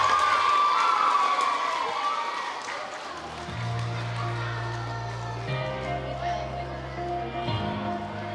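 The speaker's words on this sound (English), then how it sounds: "Give them a round of applause." A crowd of pupils at a school workshop claps and cheers loudly and close by, then the noise fades into softer crowd murmur under steady background music.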